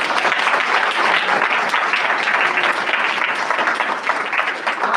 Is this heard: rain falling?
no